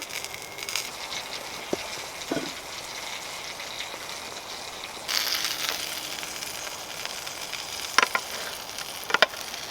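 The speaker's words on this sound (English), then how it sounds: "My shrooms, my tomatoes are just finishing off frying." Soft, continuous sizzling of mushrooms and tomatoes frying in a pan on a mini fire grill in the woods, with occasional clinks and a brief louder hiss partway through; no voices.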